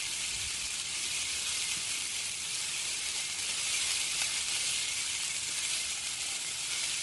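Onions and country-style ribs sizzle steadily in a pan as the meat browns, a continuous close, bright hiss with no talk over it.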